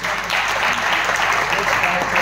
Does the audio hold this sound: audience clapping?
yes